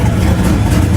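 Two Pontiac Trans Am drag cars at a drag strip make a loud, steady, deep engine rumble, close by, with no clear launch in the brief moment.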